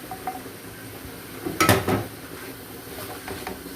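Onions and capsicum are stirred in a pan for a homemade pizza topping: soft scraping and quiet frying, broken by one short clatter of spoon against metal partway through.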